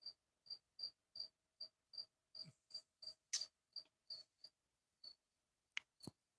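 Feeder crickets chirp inside a container in short, regular bursts at close range, about a dozen evenly spaced chirps followed by a few scattered clicks and taps.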